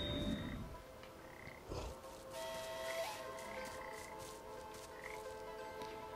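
Frogs croaking in the Papo & Yo game, a faint, steady chorus of repeated calls layered over a quiet ambient background, with no talking.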